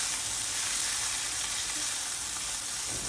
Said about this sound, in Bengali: এখন আমি আগে থেকে মিহি করে কেটে রাখা ঢেঁকি শাকটি দিয়ে দিব।